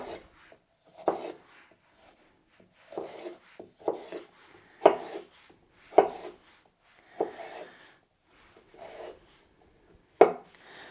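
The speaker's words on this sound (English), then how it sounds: "So we'll start off the same, cut it lengthwise." Knife slicing through a vegetable lengthwise on a cutting board while preparing salsa, a series of separate close, crisp chops and scrapes at an uneven rhythm with quiet gaps between strokes.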